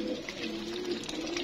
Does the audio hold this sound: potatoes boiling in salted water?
no